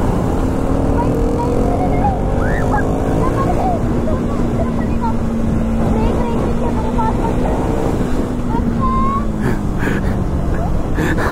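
A KTM Duke 390 motorcycle pulling hard in third gear on a road, its engine a loud continuous drone with a slowly shifting pitch, close by and constant throughout, with voices calling out over it.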